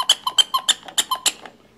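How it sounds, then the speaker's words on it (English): On a Delta Lil' Drive baby walker, a squeaking toy horn is pressed around ten times in quick succession, giving close, loud rhythmic squeaks that fade off toward the end. "a horn that squeaks"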